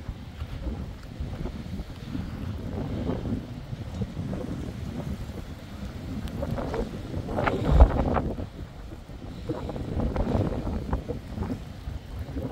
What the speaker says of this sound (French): Le vent est en train de tout fracasser.